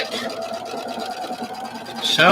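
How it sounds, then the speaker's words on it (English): A sewing machine with a quarter-inch foot and neutral thread stitches fabric together at a quarter-inch seam allowance, producing a rapid, steady, close mechanical rattle that grows louder at the end. "I'll sew it with 1/4 inch seam allowance."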